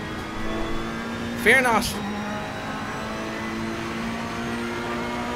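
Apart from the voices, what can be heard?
racing cars, Porsches, in Assetto Corsa Competizione video game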